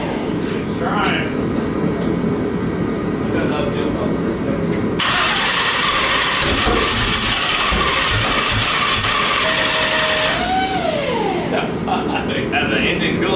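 A twin-turbo LS-powered Chevy Nova engine cranking as it tries to start, a loud mechanical churn with a pitch that shifts partway through, heard close in a garage.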